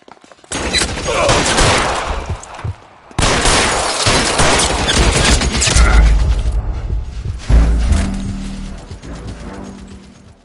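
Loud bursts of gunfire in the video game L.A. Noire, with several sustained volleys and rapid shots separated by brief pauses, punctuated by heavier booming impacts near the end.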